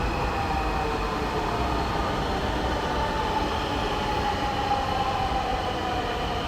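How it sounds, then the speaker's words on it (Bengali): A metro rail train in Bangladesh gives a loud, steady rumble of wheels and carriages that holds evenly throughout, with no voices. "ট্রেন অলরেডি চলে আসছে"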